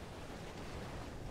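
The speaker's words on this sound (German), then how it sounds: "Die Wellen krachen wieder zusammen." Broad wash of surf and waves crashing in Final Fantasy 16, a steady, roaring sea noise filling the short moment, with a windy rush and no voices.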